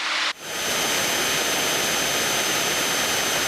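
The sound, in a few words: small airplane engine in flight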